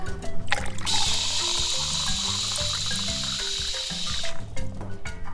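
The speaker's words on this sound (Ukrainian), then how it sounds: "Набираємо водички, додаємо." Water pours into a toy saucepan on a children's play kitchen in a steady, trickling stream lasting about three seconds, with music playing underneath.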